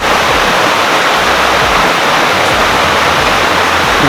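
Loud, continuous roar of a waterfall at the highest point in Alabama, pouring into a freshwater pond below, a dense, steady rush close at hand with no voices.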